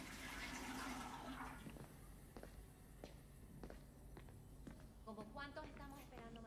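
A toilet flushes in the Spider-Man: Miles Morales video game, a loud rushing gurgle at first that drains away, followed by soft footsteps and trickling water with a voice speaking.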